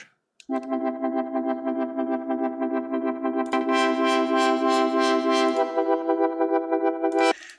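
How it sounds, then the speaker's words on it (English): A sustained Serum synth tone with a low-pass filter swept slowly open and closed by a sine-wave LFO, brightening and darkening in a steady wave, then stopping abruptly. "Also I'm automating with LFO, with sine wave."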